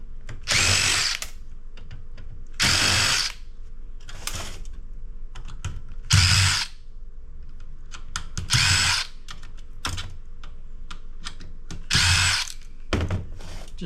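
A power drill removing Torx screws from a piece of scrap runs in short, loud whirring bursts about every two seconds. Fainter clicks and tool handling fill the gaps between bursts.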